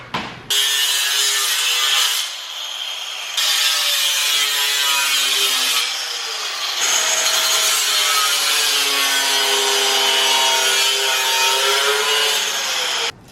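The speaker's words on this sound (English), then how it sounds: "Probably a much better tool for this than a giant grinder, but this is all that I have, so it's what I use." A large angle grinder cuts metal during a dual-caliper hydraulic handbrake install on a Nissan Z, a loud continuous grinding whine with shifting pitch across several passes, briefly easing around two and six seconds.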